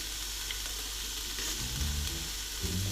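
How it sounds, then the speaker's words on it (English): Minced meat mixed with tomato paste sizzles and crackles steadily in a hot pan for bolognese, with occasional soft scraping as it is stirred. "And you want to keep it frying."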